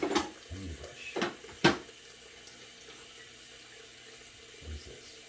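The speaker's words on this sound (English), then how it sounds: "Water's running warm now." Warm water runs from a bathroom tap into a sink while preparing to shave, a steady low stream broken by a few sharp clinks and splashes of items being handled nearby.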